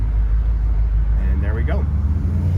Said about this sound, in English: right now we're just idling at a light